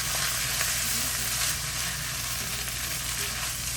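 Sausage dirty rice with sage and soy sauce sizzling steadily in a hot pan while being stirred, a loud, continuous frying hiss with faint scraping, close up and with no talking.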